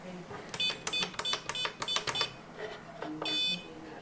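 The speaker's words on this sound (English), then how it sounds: "the green light indicates with a beep" Keypad on a biometric quick-access gun safe gives a rapid series of short, sharp electronic beeps as buttons are pressed, then a couple of longer tones, quiet and close.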